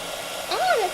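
A heat embossing tool blows a steady hot-air whoosh while melting white embossing powder, close and even, with a brief voice-like tone rising over it near the end.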